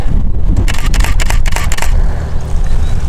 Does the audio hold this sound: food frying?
no